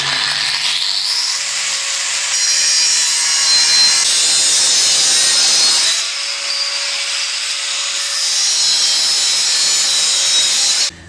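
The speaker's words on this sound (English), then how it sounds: "I'm just going to cut it off with the angle grinder" An angle grinder cuts through steel roof bar tubing with a loud, high, sustained screech. The whine dips briefly around the middle and winds down at the end, close up, with no one talking.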